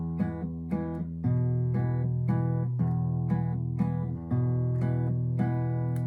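Fingerpicked strings play a pattern: the thumb alternates between the two lowest strings while the fingers pluck the third to fifth. Notes ring out close and clear in a steady, even rhythm.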